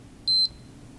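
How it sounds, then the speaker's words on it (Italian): A Cressi Nepto dive computer watch sounds one short, high electronic alarm beep, clear and close against near silence. "l'orologio emetterà dei segnali acustici"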